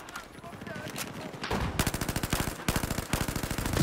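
Rapid bursts of automatic gunfire from the video game Battlefield 4, loud and close, with rhythmic volleys that intensify after a brief pause amid game noise.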